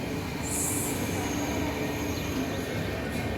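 A train rolls into Lehragaga railway station in Punjab with a steady rumble and a high wheel squeal near the start, close by and loud, with no talking.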